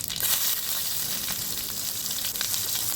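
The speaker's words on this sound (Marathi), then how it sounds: "मोहरी टाकली, फोडणी दिली, त्यात मिरच्या टाकतो" Mustard seeds and green chillies crackling in hot oil as a tempering, a loud dense sizzle with sharp popping close by, steady throughout.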